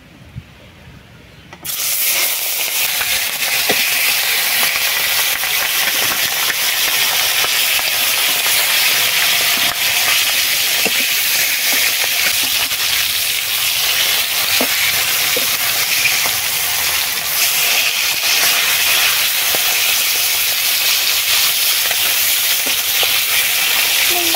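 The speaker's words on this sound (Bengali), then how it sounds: "কড়াইতে তেল দিয়ে দিয়েছি, তেল গরম হয়ে গেছে। এবারে মাছ ভেজে নেব।" Fish rubbed with salt and turmeric dropped into hot oil in a wok, a quiet start then a sudden loud, steady hissing sizzle that continues without a break.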